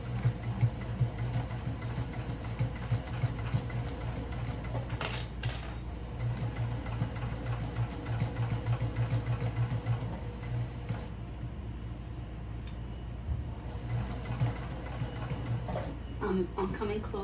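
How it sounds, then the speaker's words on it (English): A sewing machine stitching a shoulder bag runs steadily with a low mechanical hum and rapid rhythmic ticking, a few brief rustles and clicks near the start and end. "So let's go to the sewing machine."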